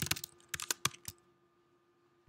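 Quick bursts of computer keyboard typing during a programming lecture, a flurry of clacking keystrokes followed by a pause and one final tap, close and fairly quiet.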